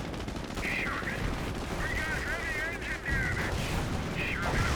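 Tank gunfire rattles in the Company of Heroes 1 video game, mixed with dense battle noise and repeated firing. Shots and bursts come continuously under a commentator's voice.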